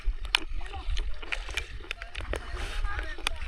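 A wooden rowboat out on deep water, its sloshing and splashing steady under the hum of the open air, with voices talking faintly over it.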